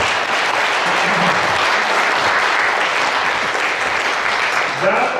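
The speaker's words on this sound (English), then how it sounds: "let's get these guys a big round of applause." Sustained audience applause at a pool exhibition event, dense steady clapping from a crowd that stays loud and even throughout, with a faint voice or two underneath.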